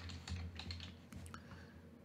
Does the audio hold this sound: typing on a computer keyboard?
yes